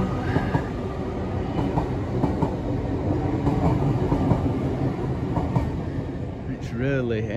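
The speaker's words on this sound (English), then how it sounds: "We do get some interesting trains go past here" A train rumbles past close by with a dense, steady rolling roar and rhythmic rail clatter, brief squealing wheel tones near the end.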